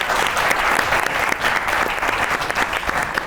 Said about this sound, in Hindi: बहुत सी ताली होनी चाहिए मैडम के लिए भी